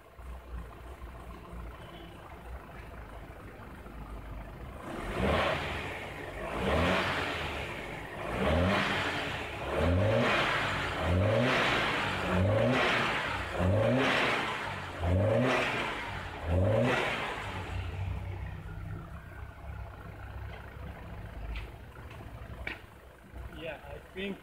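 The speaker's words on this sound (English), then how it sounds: "Then I'm going to rev the engine once again." A BMW X3 engine with a fault is revved repeatedly, giving a series of about seven rising and falling surges close by. It then settles back to a lower idle, and voices talk over it.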